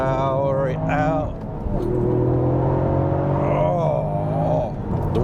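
A Toyota GR Yaris on grippy tyres powers out of a corner, the engine note climbing in steady revving sweeps, close and loud, with someone talking over it.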